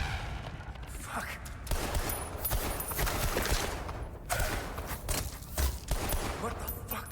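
Rapid bursts of gunfire from the video game Hell Is Us ring out in a dense, continuous volley, loud and close, with a voice gasping and reacting over the shots.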